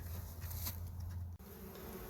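Honeybees buzz steadily around an open hive in spring, gathering at the top entrance, a low continuous drone close by with no one talking.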